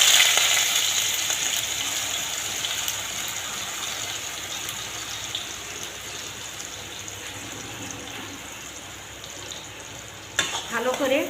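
Onion and garlic paste sizzles steadily in hot mustard oil in a wok, a continuous bright frying hiss with a louder burst of stirring near the end.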